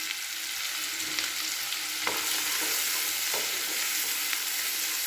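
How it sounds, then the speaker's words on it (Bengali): Chopped onion frying for a pasta soup and being stirred in a pan: an even, moderate sizzle with occasional utensil taps and scrapes, heard close and without talk. "এটা দিয়ে আবার বেশ কিছুক্ষণ এটাকে নাড়াচাড়া করে নিচ্ছি"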